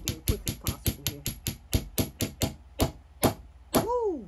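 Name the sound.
hammering copper ring on ring mandrel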